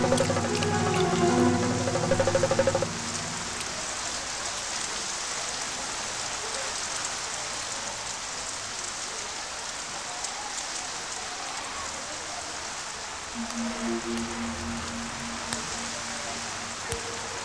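Heavy rain pours steadily onto a leaking school roof during a flood-season downpour, a dense continuous hiss with a faint tone near the start and end, no talking over it.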